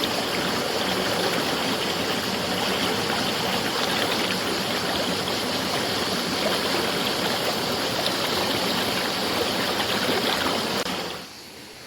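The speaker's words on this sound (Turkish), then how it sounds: "Şelalenin beslediği su akıntılarının sesi insana huzur vermektedir." A waterfall-fed stream rushes and burbles in a constant, full wash of water, close and steady, cutting off abruptly near the end.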